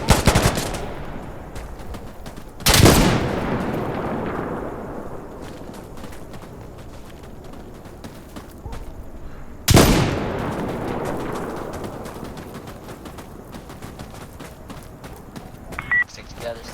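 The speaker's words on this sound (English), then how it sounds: "Shots." Gunfire in the video game Insurgency Sandstorm, two loud close shots about seven seconds apart, each with a long echoing decay, in an otherwise quiet outdoor scene.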